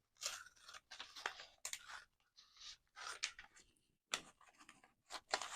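Scissors cut out a paper envelope pocket in short, crisp snipping and crunching bursts, close and quiet, several cuts in an irregular rhythm with brief pauses, no talking.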